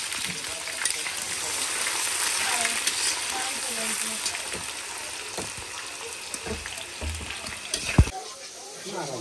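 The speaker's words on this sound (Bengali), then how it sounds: "এই যে মশলা কষানো হচ্ছে" Cumin, bay leaf and onion frying in hot oil in a home kitchen pan, a steady broadband sizzle running throughout with occasional clinks and stirring knocks, voices talking faintly underneath.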